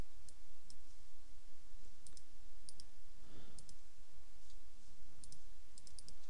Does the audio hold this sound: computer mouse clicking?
yes